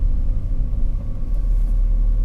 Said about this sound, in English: This is Winnipeg rush hour for you.